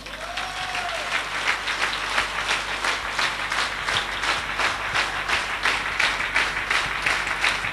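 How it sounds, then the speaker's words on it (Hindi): An audience at a company event claps loudly and continuously, a dense rhythmic patter that swells in waves throughout. "क्या इतने कर्मवीर, कर्मशील, महत्वाकांक्षी पर्सनैलिटी के लिए तालियां काफी हैं?"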